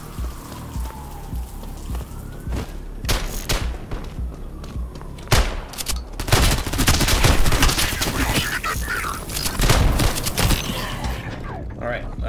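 Shotgun blasts ring out in the video game Out of Action, a string of sharp, punchy bangs, some rapid and clustered, loud and close amid game noise, with a person talking between shots.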